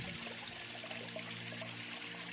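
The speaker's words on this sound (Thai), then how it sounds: "และนี่ก็เป็นน้ำตกแล้วมีปลาคาร์ฟสามตัวนะคะ เวียนว่ายอยู่" A small garden waterfall trickles steadily into a koi pond beside a pool, a soft continuous splashing and gurgling flow heard at low level with no voices.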